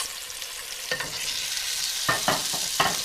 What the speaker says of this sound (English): So I'm just going to put them seasoned side down in the bacon drippings.